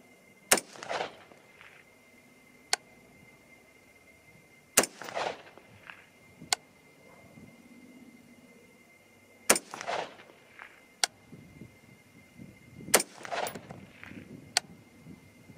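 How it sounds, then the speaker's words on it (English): An MSR rifle fires five shots outdoors at a range, each a sharp loud crack with a short echoing tail, spaced a few seconds apart, with faint movement between them and no voices. "Five shots in rapid kind of fashion, because that's what this rifle is for faster follow-up shots."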